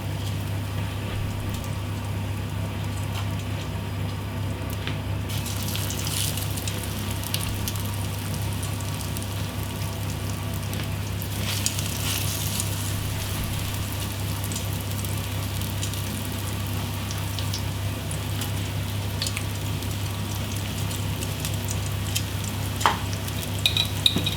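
Fish sizzles and crackles steadily in hot cooking oil over medium heat for kiwi-style fish and chips, with a constant frying hiss and occasional louder pops.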